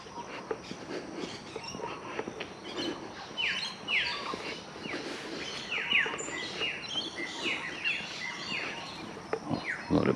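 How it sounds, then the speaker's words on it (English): Many birds chirp and sing along a road, with quick repeated calls scattered close and far over a faint background hum. "A lot of birds and stuff along here,"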